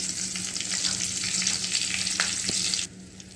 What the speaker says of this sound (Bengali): কড়ের মধ্যে আমি একটা কাঁচা লঙ্কা দিয়ে দেবো এবার দেব জিরে